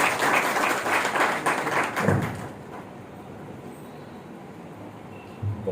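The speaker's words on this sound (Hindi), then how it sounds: "डॉक्टर विकास दवे जी के लिए सर के लिए जोरदार तालियां" An audience claps for Dr Vikas Dave at a book launch event, a loud burst of applause that lasts about two seconds and then dies down into quiet room noise, with a faint thump near the end.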